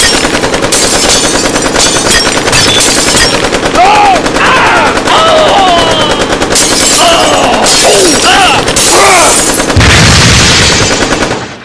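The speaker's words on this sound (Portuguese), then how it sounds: "dando espaço para o justiceiro preparar sua metralhadora e encher os mafiosos de tiro" Sustained machine gun fire rattles in rapid bursts, loud and continuous, with shouting voices and clattering debris mixed in.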